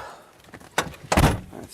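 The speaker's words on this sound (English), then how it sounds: "and if this door will even open," A car's back door is forced open in winter: a heavy thunk, then a louder rattling clunk as it gives, close and alone over faint background rumble.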